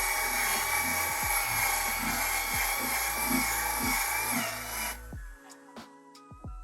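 A polisher with a wool pad buffs sand scratches out of the clear coat on the aluminum door of a Ford F-150. It drones steadily at close range with rhythmic rubbing pulses, then spins down and stops, leaving a few light knocks.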